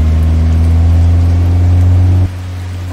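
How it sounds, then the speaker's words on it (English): A car engine held at a steady high-revving drone, loud and close, then dropping abruptly to a lower idle-like hum near the end, with no talking. "It sounds like if I'm not revving the engine, the audio's fine."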